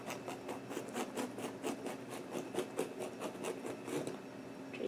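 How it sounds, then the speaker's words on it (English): A tracing wheel rolls along a line on a paper pattern while transferring markings for a round cage crinoline, producing a quick, even train of soft ticking clicks close up, with no talking. "using your tracing wheel, just trace out a line"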